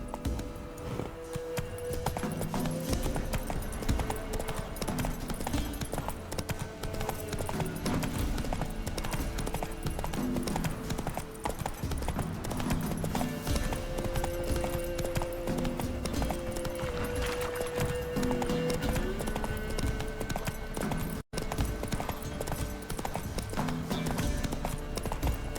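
Roach the horse clip-clops steadily at a walk in The Witcher 3, the hoofbeats repeating under a dense, continuous game soundtrack and ambience.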